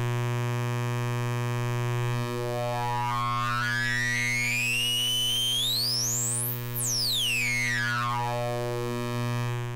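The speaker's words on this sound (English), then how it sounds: "distortion changing and evolving." Reverselandfill Monotropa Eurorack distortion module producing a loud, steady, buzzy harmonic drone, while a resonant filter sweep climbs into a piercing high whistle and then glides back down.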